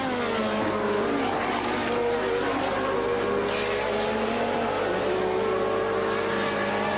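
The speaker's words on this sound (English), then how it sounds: "That's the Renault 30, the 1981 car of Alain Prost." The 1981 Renault 30 Formula 1 car of Alain Prost screams past at the German Grand Prix, a high, sustained engine whine rising and falling in pitch, heard at moderate distance with no talk.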